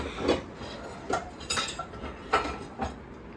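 Metal pots and utensils knock and clink in a kitchen while Maggi noodles are being made, with several close, bright clanks spaced irregularly and no speech.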